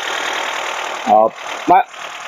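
A Honda Civic engine under full restoration, running at a steady, close idle hum, broken twice by brief spoken calls from a person nearby.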